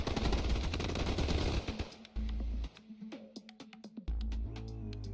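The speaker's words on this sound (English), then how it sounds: "A staccato burst of gunfire tore through the woods." Video game gunfire in Snowbreak: Containment Zone: several rapid automatic bursts with sharp individual cracks and heavy low thumps, loud and close, separated by brief pauses, with no speech.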